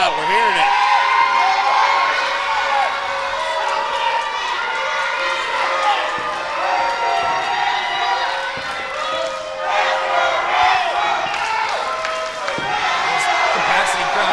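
Capacity crowd at an independent wrestling show in Santa Fe, Texas cheering and shouting for a wrestler, a sustained roar with whoops and thuds from the ring, commentators talking over it.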